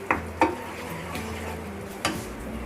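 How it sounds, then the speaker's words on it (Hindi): Masala paste for kaju makhana curry frying in desi ghee over a medium flame: a steady low sizzle with a few sharp spoon-against-pan clinks, faint and unhurried. "और इसे हमें मीडियम फ्लेम पर, जब तक इसका ऑयल रिलीज नहीं हो जाता, देसी घी ऊपर नहीं आ जाता, जब तक हमें इसे भूनना है।"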